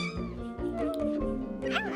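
A cartoon cat in the Toca Life City game gives one long, drawn-out meow that rises and bends in pitch, loud and close, ending in a higher wavering cry.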